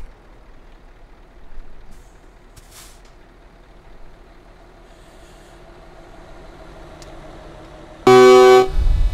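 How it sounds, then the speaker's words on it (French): A truck horn sounds in Euro Truck Simulator 2 as a sudden loud, sustained blast over a low idling engine rumble, near the end. "Ça c'est le klaxon."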